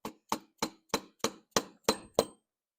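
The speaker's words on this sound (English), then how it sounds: "That's why I'm using rubber mallet." Rubber mallet tapping a coolant line loose from a BMW B46 turbo, eight sharp, evenly spaced knocks close by, each ringing briefly, with no talking.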